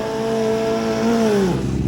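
Nitrous and turbo drag motorcycles, a Suzuki Hayabusa and a Kawasaki, race side by side at the top end of a drag strip, their engines holding a loud sustained high whine that drops in pitch near the end.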